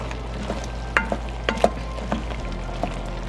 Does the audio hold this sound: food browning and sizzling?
yes